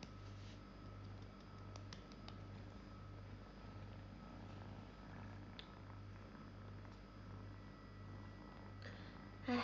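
A cat purrs steadily and softly through the whole stretch, the low rhythmic rumble pulsing under a faint indoor hum with no talking.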